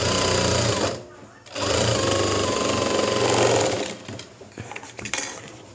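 A sewing machine runs steady and loud, stitching an open seam in tailoring work, pausing briefly near the start and then resuming, with a voice speaking over the later part.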